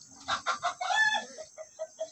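A rooster crows in a rainy village setting, one full cock-a-doodle-doo followed by a few shorter clucking calls, clear and fairly close against a quiet background.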